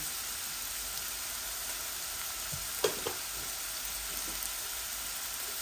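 Mixed vegetables fry and get stirred in a pan with turmeric added, a steady dense sizzle running throughout with a few soft scrapes of the spoon, close and alone with no talk.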